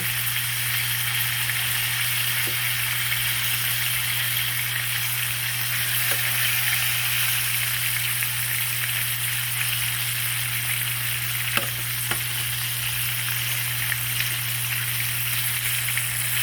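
Chicken pieces fry in hot oil with a continuous, even sizzle and a faint steady hum beneath, with a few small pops and clicks here and there and no talking.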